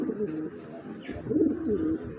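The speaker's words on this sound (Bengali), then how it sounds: "নরমাদি দুইটাই কিন্তু ক্লাবের কবুতর" A male and female pair of club racing pigeons coo nearby in low, throaty, repeated rolling calls.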